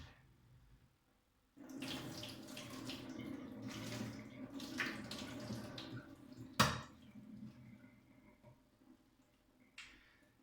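Warm water runs from a tap as a steady broadband rush that starts after a short quiet pause, with a sharp clunk midway and a faint splash near the end, while roots on an orchid mount are being soaked.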